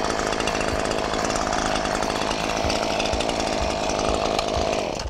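A chainsaw runs steadily at high revs while cutting a tree branch, loud and close, a continuous droning buzz lasting throughout with no pauses or voices.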